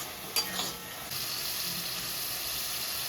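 Spices and Kashmiri chili powder frying in a pan, giving a soft, steady sizzle with a couple of brief stirring clinks near the start, close and fairly quiet.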